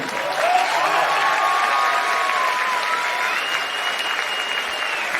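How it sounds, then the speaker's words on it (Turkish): An audience at a bar association greeting event in İzmir breaks into sustained, dense applause that holds steady throughout, with a faint tone and some crowd noise beneath the clapping. "Bir alkış buraya gider mi?"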